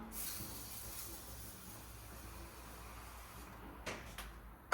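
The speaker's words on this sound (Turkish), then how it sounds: "aynam için şu Rosman'dan aldığım tap cleaner'ı sıkacağım." Rossmann tap cleaner is sprayed onto a bathroom mirror, giving a faint, steady hiss that runs several seconds, with a couple of soft knocks near the end.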